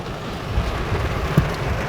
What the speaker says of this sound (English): Huge rain! Huge rain!